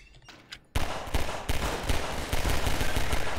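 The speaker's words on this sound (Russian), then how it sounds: "Опа, взрыв!" An explosion in the video game Garry's Mod bursts in loud after a quiet opening, followed by a dense, rapid string of blasts and crackling impacts.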